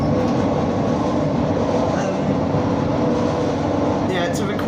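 A train on the Tarka Line slows down, giving off a loud, steady rumble and rattle of carriages on the rails, with a voice faintly present beneath the noise.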